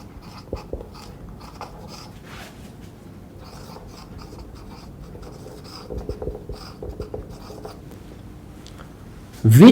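A definition is written out by hand, with soft scratchy pen or chalk strokes coming in short bursts across the whole stretch and a louder knock at the very end, mostly alone with only faint background sound.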